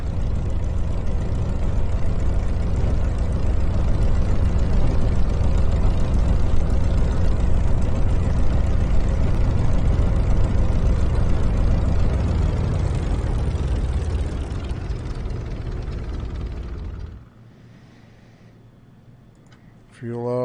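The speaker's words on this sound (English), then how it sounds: "Let's go ahead and kill the engine here." A Spitfire aircraft engine idles with a loud, steady low rumble for about seventeen seconds, then cuts out at shutdown, leaving quiet engine ticking and faint residual noise.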